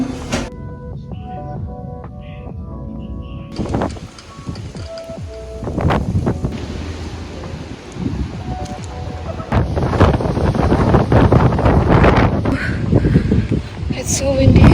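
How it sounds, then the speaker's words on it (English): Strong gusts of wind buffet a handheld microphone outdoors in loud, rumbling bursts that grow heavier toward the end, mixed with footsteps and handling noise and talk in between. "It's so windy."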